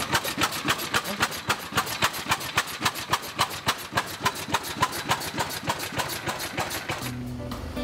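Antique Benz Victoria car engine running with a steady, rapid knocking pulse that stays loud and close, then cuts off near the end, leaving a low residual hum.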